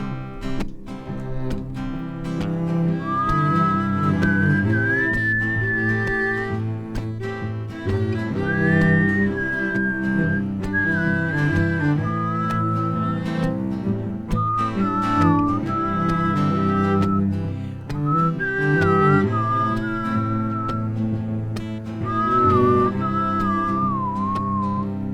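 Human whistling carries a wavering melody in short phrases over a backing of sustained instrumental music, clear and fairly prominent throughout.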